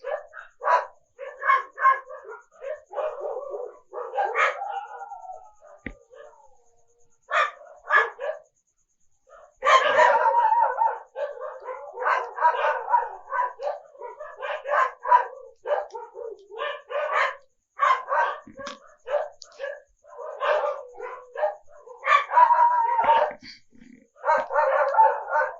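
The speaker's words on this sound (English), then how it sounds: "The dogs are very noisy." Several dogs bark repeatedly in loud, irregular bursts with yips and whimpers, close by, continuing almost without pause.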